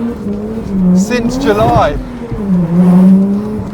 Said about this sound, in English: there is a new sound that I don't recognise. Yeah, it's the turbo